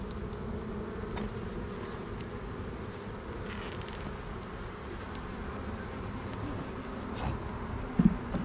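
Honey bees buzzing in an opened hive box during a beekeeping inspection, a steady droning hum that carries evenly throughout with a short thump near the end.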